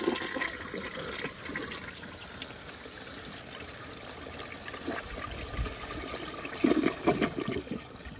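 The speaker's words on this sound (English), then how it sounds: "So let's just give it a flush." A 1984 Eljer Emblem toilet with a faulty flush valve flushes, giving a steady rush of water and trickling that swells louder near the end, with no talking.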